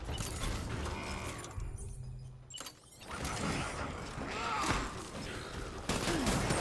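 Enemy gunfire in the video game Death Stranding: dense, continuous volleys of shots and clatter, dipping briefly in the middle before resuming at full intensity.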